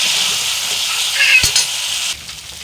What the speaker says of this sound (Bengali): তো এবার আমি অল্প জল দিয়ে আরও কষিয়ে নেব।